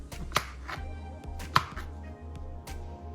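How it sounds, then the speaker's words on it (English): A knife chops sliced mushrooms on a board for a jerk mushroom quesadilla: three sharp, separate chops about a second apart, close and crisp over a low, steady background hum. "once we slice up our mushroom and everything"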